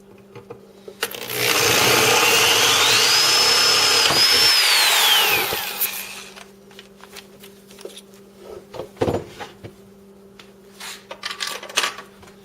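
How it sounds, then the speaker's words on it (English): A loud, steady high-pitched drill whine runs for about four seconds as a small bit bores through metal conduit, with a slight rise in pitch, then winds down, followed by scattered light clinks and handling noises. "start with a small drill bit to get through the conduit and then work your way up"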